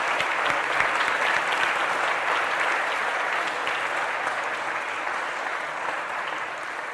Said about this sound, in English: you all deserve a round of non-political applause for just being here